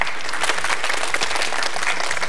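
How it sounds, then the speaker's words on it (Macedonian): A short burst of steady applause comes from a school audience at a Macedonian television show, with dense clapping throughout and no voices over it. "Ајде на аплауз."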